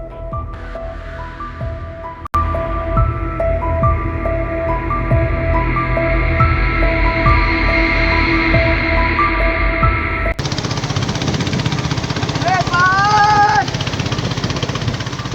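A motorboat engine drones steadily and loudly on the Sangu river in Bandarban. Its tone shifts abruptly partway through, and faint chirping rises over the hum near the end.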